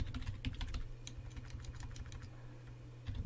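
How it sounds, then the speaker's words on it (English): A computer keyboard clatters with quick, uneven keystrokes while someone types out Cisco router configuration commands, the clicks close and steady over a low constant hum with no talk. "You can tell my typing skills aren't the best"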